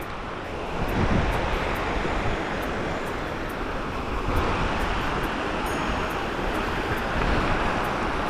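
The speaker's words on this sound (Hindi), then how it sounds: "ये झरना क्रॉस करना पड़ रहा है हमें" Rushing water from a mountain waterfall near Mana, above Badrinath, roars continuously, a broad steady wash of flowing stream noise with wind buffeting the microphone.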